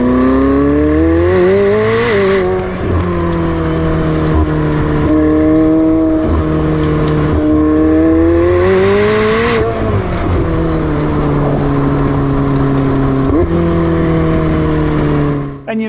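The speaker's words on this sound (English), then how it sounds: "But the best part, the titanium exhaust." A McLaren 765LT Spyder with a titanium exhaust revs hard through repeated climbing gear pulls, each rising wail dropping at a shift, loud and close, over music or voices faintly in the background.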